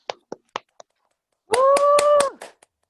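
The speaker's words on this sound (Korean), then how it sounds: "박수 한번 치시겠습니다." A few separate hand claps ring out sharply in a quiet room, followed by a short burst of clapping mixed with a sustained voice.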